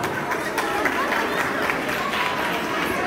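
Guests at a Turkish village wedding clap together in a steady, scattered crowd applause with some chatter mixed in, sustained at an even level throughout.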